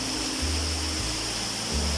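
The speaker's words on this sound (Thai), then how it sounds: "ที่น้ำตกไหลล่องลงมา จากหน้าผาเป็นชั้นๆ" Steady rushing water of Pa Wai Waterfall in Thailand, spilling down a tiered cliff, a constant broad roar with a low hum shifting underneath, no voices.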